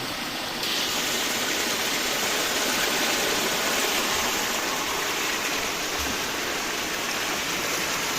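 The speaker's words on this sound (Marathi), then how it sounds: "असा धो धो पाऊस पडला आणि धबधबा लागला आमच्या बागेतनं बघा" Rain-fed waterfall in a Konkan garden during heavy monsoon rain, a steady, dense rush of falling water that stays even and continuous throughout, with no voices over it.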